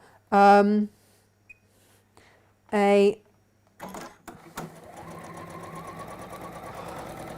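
A sewing machine quickly tacks fabric in place with a roughly quarter-inch seam, its rapid mechanical stitching running steadily and close by after a brief stretch of talking and a few clicks.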